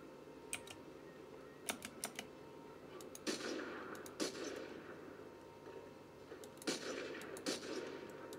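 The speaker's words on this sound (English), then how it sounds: "two people are shooting at this guy." Gunfire in the video game Fortnite, heard as scattered sharp shots and short bursts spread across the clip, fairly faint against a steady background with no talk.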